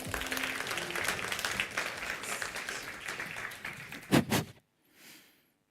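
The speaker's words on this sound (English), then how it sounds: "let's give a big applaud to our next startup" Applause from an audience at a startup festival pitch event, steady clapping that fades, followed by a couple of louder close claps and a brief quiet tail.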